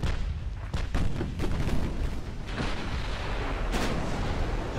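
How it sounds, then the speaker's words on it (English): Heavy battleship guns boom in the naval warfare game Ultimate Admiral: Dreadnoughts, a continuous rumbling barrage of repeated blasts with a few sharper reports standing out, loud and dense throughout. "She's still firing at the destroyers"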